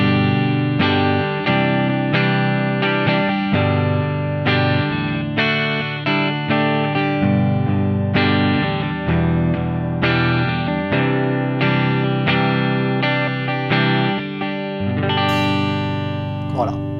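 An electric guitar on the neck pickup plays a clean, soft tone with a touch of reverb, steady chords and notes up close, ending with a brief spoken word.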